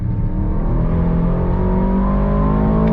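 A 2023 Aston Martin DBX 707 SUV engine roars loudly and steadily as it accelerates hard from a launch-control start, a dense close-up growl filling the whole clip.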